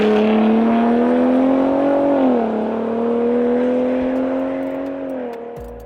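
Gen 3 Ford Raptor with a tuned 3.5 liter V6 revving loudly and close, a sustained droning roar that dips briefly, holds steady, then eases off near the end.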